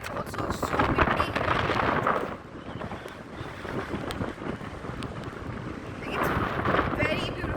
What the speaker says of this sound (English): It's also so windy.